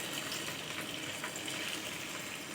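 Steady sizzling hiss of cut paneer frying in hot oil on a tava, close and continuous with a dense crackling texture and no talking.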